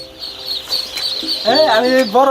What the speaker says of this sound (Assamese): এইটো টাৰ্কি পোৱালি হয়।